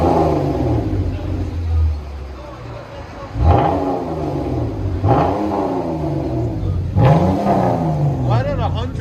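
A 2015 Chrysler 200 S V6 with dual exhaust and a Vibrant bottle resonator revs repeatedly, three or four sharp rising pulls that fall back to a smooth idle rumble, with people talking over it.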